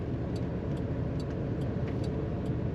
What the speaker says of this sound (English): Today we're going for a ride in a turbo Trans Am from Pontiac, a 1980 model.